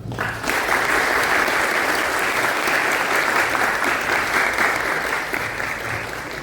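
A university audience at an academic talk on studying law breaks into loud, sustained applause that holds steady for several seconds, with no talking over it.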